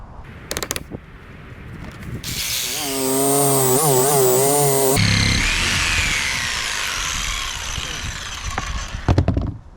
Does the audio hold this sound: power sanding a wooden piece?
yes